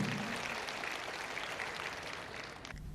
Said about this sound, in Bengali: করতালি দিয়ে আরো একবার অভিনন্দিত করবার জন্য